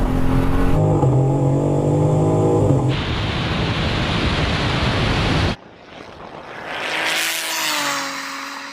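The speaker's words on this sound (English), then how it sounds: "The BMW gets a clean launch, perfect traction, strong start." A 700HP Toyota Supra and a BMW M3 launch in a drag race: loud engines rev and roar, then a broad whooshing rush of acceleration that cuts off abruptly, leaving a fainter rising engine sweep.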